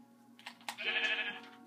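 A single short bleat from a sheep in the Minecraft video game, a clear nasal wavering tone lasting under a second after a couple of small clicks, close and isolated with no talking.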